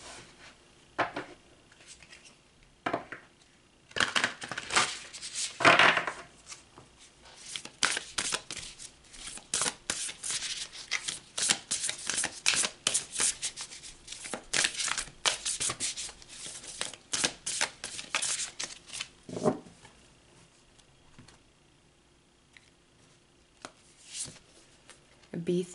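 Tarot cards being shuffled close by, a long run of rapid riffling and sliding card sounds in irregular bursts that fade off toward the end.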